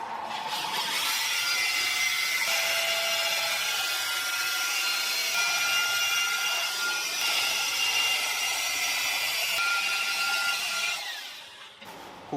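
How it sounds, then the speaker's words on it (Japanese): A rotary buffer polishes the bonnet of a Caterham Super Seven being restored, using White Diamond compound, giving a steady, loud whirring and rubbing that runs almost unbroken for about eleven seconds before tapering off at the end. "とりあえずホワイトダイヤモンドでボンネット1枚全部磨いちゃいます。"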